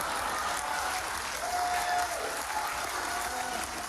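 A studio audience at a comedy talk show breaks into sustained, dense applause, a steady wash of clapping hands that stays loud throughout.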